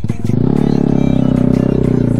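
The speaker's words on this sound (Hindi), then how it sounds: "अलग ही सीन है, बाइक ऊपर चढ़ाएगा।" A motorcycle strains up an off-road slope, its engine revving hard in a loud, rapid, pulsing drone that holds steady at close range.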